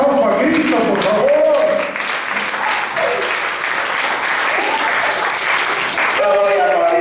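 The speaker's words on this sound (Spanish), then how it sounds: "Denle un aplauso a Cristo, por favor." Loud, sustained applause from a church congregation, a dense wash of clapping that carries on throughout, with voices and cheers mixed in over it.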